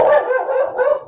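A studio dog barks in an excited, continuous burst of loud, close yaps and bow-wows that run together over about a second.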